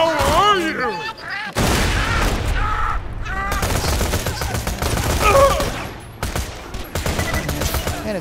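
Loud gunfire and explosions from a shooter video game battle, steady rattling bursts and booms throughout, with a voice speaking over the combat.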